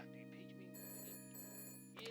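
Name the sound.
telephone ringing in the video game Shadows of Doubt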